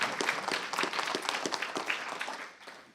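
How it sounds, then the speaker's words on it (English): Audience applause at a conference closing session, a moderate-sized crowd clapping steadily with separate claps audible, then thinning out and fading toward the end. "we just give a round of applause for that"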